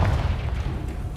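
A Confringo spell blast in the Hogwarts Legacy video game, a short, loud, deep thumping boom with a muffled low rumble, close and heavy.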